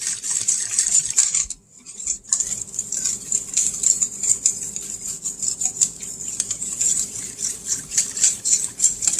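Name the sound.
stirring homemade pizza dough ingredients in a bowl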